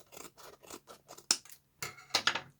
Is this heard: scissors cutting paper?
yes